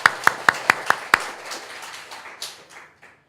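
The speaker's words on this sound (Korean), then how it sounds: "살아계신 그분께 우리 박수를 우리 10번만 제대로 큰 소리 하시겠습니다" Church congregation at a Friday prayer meeting clapping in unison, six sharp evenly spaced claps followed by looser scattered clapping and murmuring that fades out.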